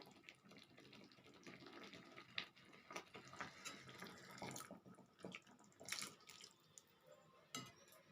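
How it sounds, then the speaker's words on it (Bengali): Rinse water from a spice bowl is poured into a beans curry, a faint, uneven splashing and trickling with small irregular bursts, no voices present. "আর এই মশলার বাটি ধোয়া জলটা এর সঙ্গে দিয়ে দেব।"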